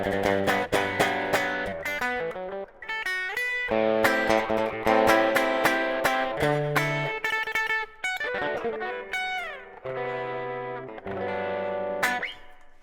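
A clean electric guitar plays a bright, rhythmic pattern of picked chords and single notes through a Tone Master Pro set to a modulated small hall reverb, each note ringing with a shimmering, spacious tail, heard alone with no talk.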